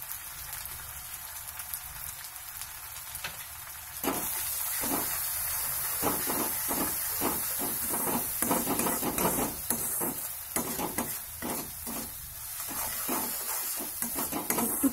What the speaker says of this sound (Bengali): মানে মশলাটা কষানো হয়ে গেছে